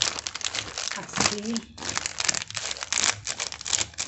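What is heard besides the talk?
cutting and crumpling paper or cardboard for a Christmas craft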